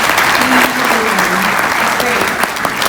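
An audience at an industry summit keynote claps together, a short, dense burst of applause filling the room at close range, with faint voices murmuring underneath.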